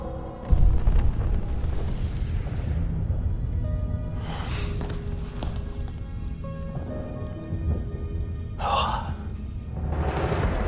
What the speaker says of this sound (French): On dirait plutôt des explosions.